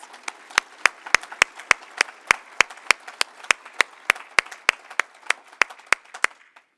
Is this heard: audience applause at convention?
yes